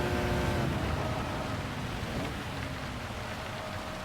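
Steady, dense rain hiss mixed with a low engine rumble, loud and continuous throughout, from heavy rain during a race in Gran Turismo 7.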